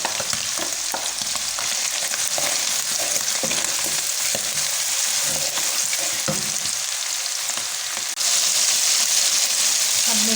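Vegetables including carrots stir-frying in a pan for fried rice, a continuous loud hiss and sizzle with scattered stirring scrapes, growing slightly louder near the end.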